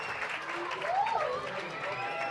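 A crowd claps and cheers at a 2024 ACC women's college soccer match between North Carolina and Cal. The stands sound moderately loud and spread out, running under a commentator's voice for the whole stretch.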